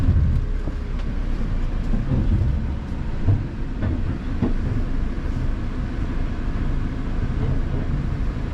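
A car-carrying shuttle train loaded with cars and a motorhome rumbles through a tunnel, a loud, continuous low roar with scattered knocks and rattles throughout.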